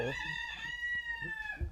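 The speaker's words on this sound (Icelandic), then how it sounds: "svo náttúrulega eru hænurnar galandi á bakvið" Hens in the background cluck while a rooster crows, a long sustained crow holding through most of the moment and ending with a few low clucks, moderately close and fairly clear.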